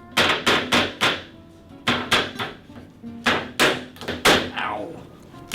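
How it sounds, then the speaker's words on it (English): A camera being used as a hammer to drive a nail into wood, a string of sharp, loud knocks in uneven bursts of three or four strikes with short pauses between, close and alone. "It's not very good for hammering nails."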